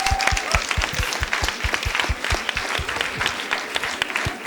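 An audience at a plenary practice-sharing day in a hall bursts into sustained applause, dense rapid clapping at a steady loud level from start to finish.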